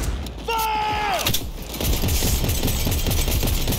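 Gunfire in the video game Cyberpunk 2077: a brief falling electronic whine, then a dense, rapid burst of automatic shots crackling on to the end, loud and close amid general game noise.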